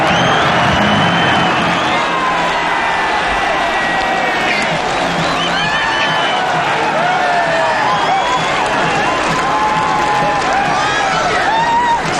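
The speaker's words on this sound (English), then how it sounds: "Rapturous applause from the appreciative crowd." Racecourse crowd at the Cheltenham Gold Cup applauds and cheers Kauto Star back into the winners' enclosure, a sustained roar of clapping and whoops with a commentator talking over it.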